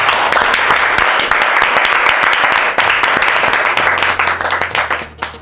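Loud, dense crowd applause at an Ivorian comedy show, many hands clapping steadily before thinning out near the end.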